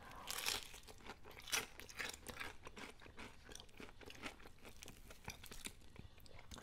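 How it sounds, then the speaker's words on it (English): Spicy Popeyes fried chicken is bitten and chewed close up, giving a steady series of crisp, crackly crunches with a few louder bites, quiet and with no talking. "I love how it maintains a crunch."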